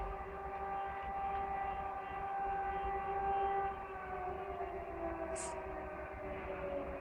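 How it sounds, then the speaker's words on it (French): A distant siren wails in long sustained tones, with a steady rumbling background and a brief higher chirp near the end. "Je vais peut-être laisser passer la sirène parce que c'est assez agaçant."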